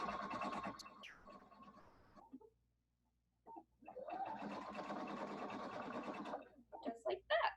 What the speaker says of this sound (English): I'm just gonna use my foot pedal. Go nice and steady.